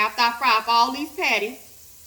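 Ground beef patties sizzle and fry in a pot, a steady, faint frying hiss running beneath a voice that talks over most of it.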